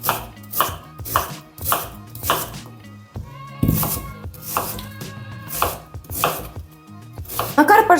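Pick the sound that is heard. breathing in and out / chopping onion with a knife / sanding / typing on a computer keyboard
chopping onion with a knife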